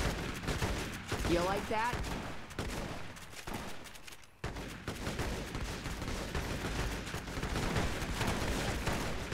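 Sustained gunfire in the heavily modded shooter game Fallout New Vegas, dense rattling bursts and volleys running almost without pause, with someone talking briefly over the shooting.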